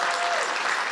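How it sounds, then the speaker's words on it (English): An audience at the Oakland Museum of California gives a round of applause during a talk event, a brief, full burst of continuous clapping that stays even and close from start to finish. "give them a round of applause."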